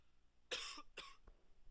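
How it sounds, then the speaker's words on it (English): Two quick, close coughs from a person, followed by a faint soft throat sound, with nothing else around them. "I had to cough and I didn't want to do that in the mic."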